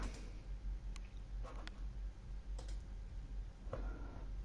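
Keys tapped on a computer keyboard in a few scattered bursts of light clicks, close and fairly quiet over a steady low background hum.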